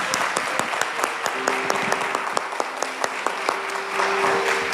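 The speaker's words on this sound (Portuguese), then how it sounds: "Ele merece uma salva de palmas" Applause from a church congregation during an evening worship service, a steady wash of clapping with sharp individual claps, while a sustained organ or keyboard note plays underneath.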